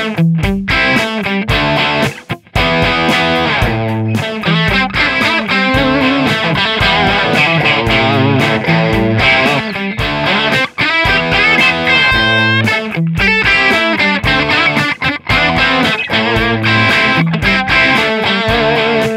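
Distorted electric guitar through a Marshall JCM-800 amp via Zoom multi-layer IR, playing loud hard rock riffs and chords with a few brief pauses, alone without talk.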